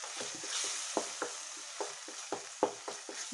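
Potato curd gravy sautéing in a pan, a steady soft frying hiss broken by repeated short scraping stirs at an uneven rhythm, close and moderately quiet with no talk.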